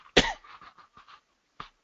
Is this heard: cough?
yes